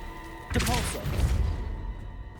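The Depulso spell hits in the Hogwarts Legacy video game with a sudden close thud and crashing rumble that trails off over about two seconds, with a brief voice at the impact.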